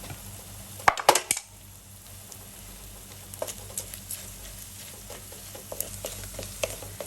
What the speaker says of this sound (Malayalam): ഈ സമയത്ത് ഒരു നുള്ള ഉപ്പും കൂടെ ചേർത്തിട്ട് നമുക്കൊന്ന് വഴറ്റിയെടുക്കാം.